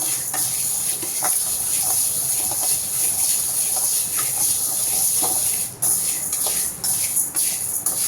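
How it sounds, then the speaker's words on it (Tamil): Urad dal mixture stirred in a pan, a steady loud hiss and sizzle with faint scraping strokes running throughout, no talk. "நல்லா இதை கிண்டி விட்டுக்கிட்டே இருக்கணும்"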